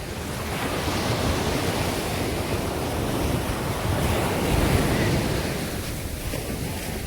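Ocean waves wash ashore at Miramar beach, a loud continuous roar of surf with wind buffeting the microphone and no talk.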